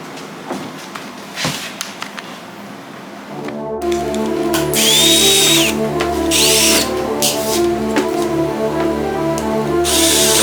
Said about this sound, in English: So now we got a bigger drill bit, and now we're going to make the holes bigger.